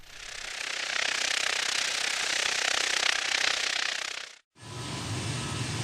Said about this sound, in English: This is the sound of the propeller spinning by itself.